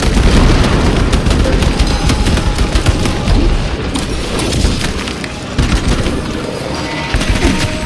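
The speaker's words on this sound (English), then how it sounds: "Frag grenade out!" A frag grenade blast in Space Marines 2 lands amid dense, continuous battle noise, with booming explosions and rapid gunfire crackling throughout at a steady loud level.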